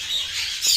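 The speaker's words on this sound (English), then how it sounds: "The noisy bird." A noisy bird squawks in a short, harsh burst, close and fairly loud, with a sharper rise of the call near the end and no talking.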